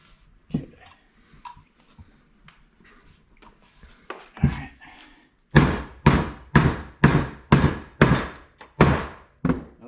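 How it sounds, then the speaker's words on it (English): A urethane suspension bushing is tapped into place during a car suspension restoration, starting with a few light knocks and building to a steady run of about nine loud, evenly spaced thuds close by. "Give it a tap, put it in."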